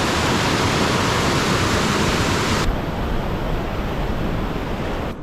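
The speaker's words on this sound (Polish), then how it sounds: "rwący potok" A rushing mountain stream runs along a gravel cycling route on the VeloDunajec trail between Nowy Sącz and Tarnów, giving a steady, loud broadband roar of water with no voices.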